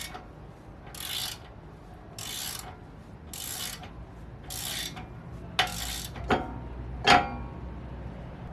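A ratchet works in bursts during a car repair, turning a screw in while fixing dashboard warning lights for ABS, traction control and tire pressure. Four evenly spaced clicking runs come close, followed by a few sharper knocks, with no talking.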